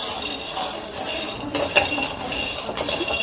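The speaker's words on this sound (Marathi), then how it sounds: "आता मी ते भाजणार आहे शेंगदाणे." Peanuts being dry-roasted in a pan at home, with metallic scraping and clinking of a utensil against the pan, a few sharper clinks standing out over a steady low sizzle-like background, no talking.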